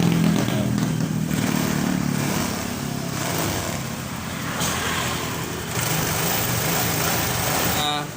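A Honda Vario 110 scooter engine idles steadily at close range after a repair restored its charging, with a low continuous drone and a voice speaking over it throughout.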